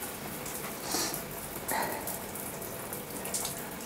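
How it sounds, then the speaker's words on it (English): Hot shower water runs steadily as a broadband hiss with small splashy swells, fairly close and continuous, with no talking over it. "hot shower."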